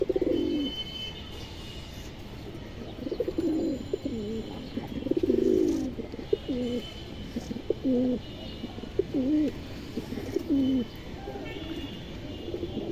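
Highflyer Indian kaldom pigeons coo in repeated soft, throaty bursts at a steady pace, close by, over a low background hum.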